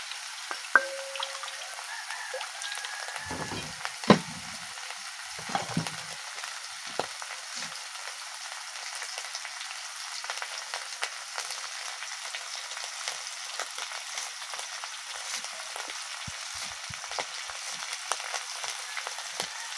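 Dried fish mash with onion greens and coriander leaves sizzling and frying in a pan, with occasional scraping and stirring clinks over a steady soft crackle, fairly quiet and close.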